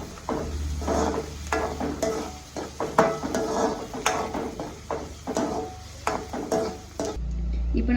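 Mustard seeds crackle and pop in hot oil while being stirred, sharp scattered pops and spatula scrapes over a steady sizzle and a low background hum.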